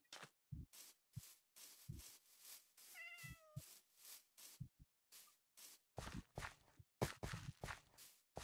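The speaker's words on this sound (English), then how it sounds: "They even have a cat here." Cat meowing in the Minecraft video game, a short rising-and-falling meow in the middle, set among soft scattered footsteps and clicks.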